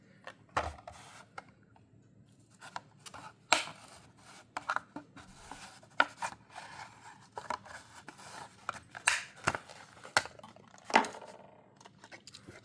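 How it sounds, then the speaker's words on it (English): Unboxing a Hot Wheels '71 Mustang Funny Car, a mainline-series die-cast toy, from its packaging: quiet, close, irregular crinkles, snips and plastic clicks, with sharp taps scattered throughout and no talking. "So let's unbox this and see how this one looks."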